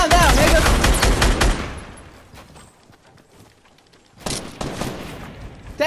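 Rapid game gunfire in Fortnite, a dense burst of shots loud at the start, then fading into quieter scattered sounds before another loud burst near the end, with no talk over it.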